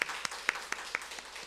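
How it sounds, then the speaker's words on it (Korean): Welcoming applause at a Wednesday church service, heard as a handful of evenly spaced claps, fairly faint and close, with no talking. "우리 함께 환영의 박수를 같이 드리겠습니다."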